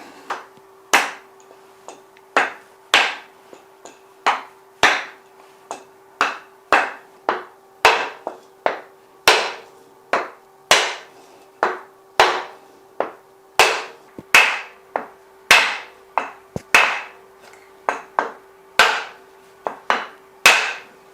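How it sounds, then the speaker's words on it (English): Repeated sharp taps of a wooden block against the outside of a planer gearbox, nudging it into position on a 16-inch four-post planer during spiral cutterhead installation; steady, evenly spaced knocks, about one per second, close and clear with no talk. "use a block of wood, gently tap it on the outside of the gearbox"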